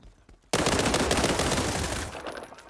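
Sustained automatic gunfire from a World War 3 video game match erupts suddenly after a brief quiet and keeps up as a dense, loud burst of rapid shots before tapering near the end.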